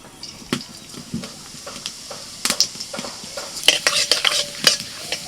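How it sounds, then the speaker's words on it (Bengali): Whole cumin seeds sizzle in hot oil in a home kitchen, giving soft crackling pops and a few sharper spits that grow busier toward the end. "তেলের মধ্যে দিচ্ছি গোটা জিরে"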